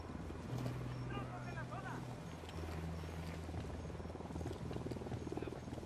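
Helicopter in the video game Ghost Recon Wildlands, a steady low rotor drone running through the clip alongside a dense game soundscape of croaking frogs and wildlife, with players talking over it.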